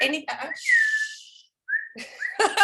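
A person whistles a few short sliding notes, clear and close, broken by brief pauses and mixed with soft breathy sounds.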